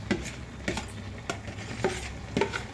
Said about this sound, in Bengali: সেই জন্য এবার এর মধ্যে সমস্ত সবজিগুলো ঢেলে দিচ্ছি।